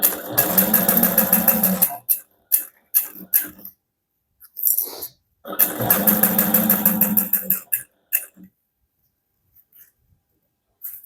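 A sewing machine backstitching a handbag seam runs in two loud bursts of rapid stitching, each about two seconds long, separated by short clicks and handling noises, then falls quiet with a few faint taps.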